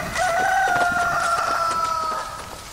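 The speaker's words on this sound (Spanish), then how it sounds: "se escuchó a lo lejos el canto de un gallo" A rooster crows once in a long, drawn-out call, fairly clear and a little distant, with no other sounds around it.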